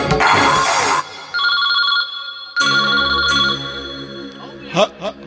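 A telephone rings in a staged drama scene as a call is placed, its bright repeating electronic trill sounding in two or three bursts, with speech heard before and briefly after the rings.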